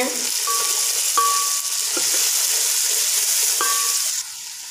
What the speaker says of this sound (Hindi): मसाला हमारा अच्छी तरह भून चुका है।